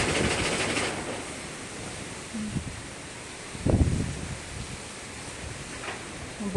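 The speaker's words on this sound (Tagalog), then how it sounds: "Bigla ang huros sa hangin." Strong wind gusts across open fields near sugar cane and the sea, a broad rushing roar buffeting the microphone with a sharper burst midway.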